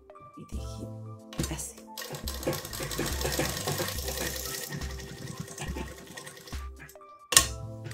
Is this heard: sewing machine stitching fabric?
yes